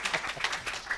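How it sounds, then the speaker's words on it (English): Audience applause at a Zimbabwe country presentation event, a dense patter of clapping hands that holds steady for about a second at moderate volume, with no voices breaking through. "Let's give you another round of applause."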